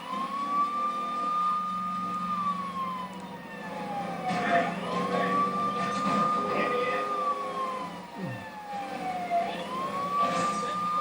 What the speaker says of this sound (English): I'm gonna turn the siren on so that way people can move.